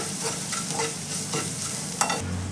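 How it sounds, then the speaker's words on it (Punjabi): A spoon stirs salt, turmeric, red chilli powder and chopped green chillies into onions frying in a pan for bread pakora. Close scraping strokes repeat over a steady sizzle, and no one speaks. "ਇਹਨਾਂ ਨੂੰ ਬਸ ਆਪਾਂ ਮਿਕਸ ਜਿਹਾ ਕਰ ਲਿਆ ਹੈ ਮਸਾਲਿਆਂ ਨੂੰ"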